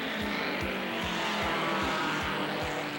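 Indianapolis 500 race cars roar at speed, with engine noise and a rapid run of rhythmic low thumps pulsing under a loud, dense wash of sound.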